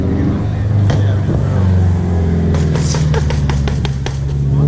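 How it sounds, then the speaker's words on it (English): Scion FR-S cars at a car meet letting off sharp exhaust pops, a run of quick cracks over a loud running engine rumble, with people talking nearby. "all these FRSs are popping"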